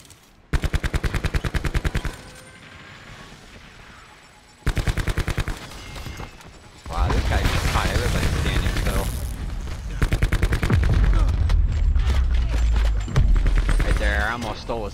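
Rapid automatic gunfire from Black Ops 4 comes in loud, fast bursts separated by short pauses, then gives way to heavier, denser shooting and booming explosions in the closing seconds.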